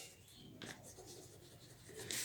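Marker or chalk writing on a board during a Bengali-language English grammar lesson, a few brisk scratchy strokes in quick succession, close and moderately loud with no talk.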